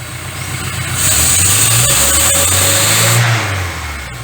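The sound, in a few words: carburetor engine revving under slow acceleration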